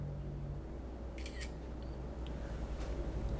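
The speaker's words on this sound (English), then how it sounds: "Super fast shutter speed." An iPhone 12 camera shutter fires once or twice in quick succession for a photo indoors. The short, crisp clicks sit over a steady room hum, with nothing else going on.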